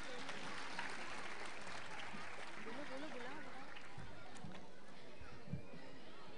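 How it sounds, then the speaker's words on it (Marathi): Audience applause at a nursery school's annual day celebration after a Koli fisherfolk performance, a steady wash of clapping throughout with voices and music mixed in. "या कोळी बांधवांसाठी जोरदार टाळ्या होऊन जाऊ देत"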